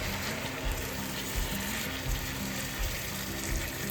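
Tamarind water sizzling and bubbling loudly in a hot pan while a sweet and sour date pickle cooks, a dense, steady frying hiss close by with faint stirring knocks.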